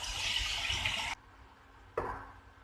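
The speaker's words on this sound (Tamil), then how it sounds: "அந்த எலுமிச்சம்பழ அளவு புளி தண்ணி விட்டுடலாம்." Tamarind water is poured into a pan of green chillies, a loud close hissing splash that cuts off abruptly, followed by a brief quieter lull and a second sharp burst of sizzling pour.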